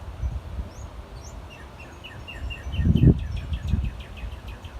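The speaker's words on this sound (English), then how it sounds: "the birds is really chirping out here today," Birds chirp outdoors in quick repeated tweets, fairly faint and distant, over low rustling background noise.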